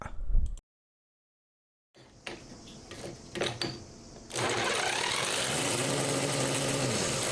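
Custom four-cylinder CD125four engine built into a Honda Monkey, on its first start attempt: short sputtering bursts and cranking, then it catches and settles into a steady, loud running note that holds to the end.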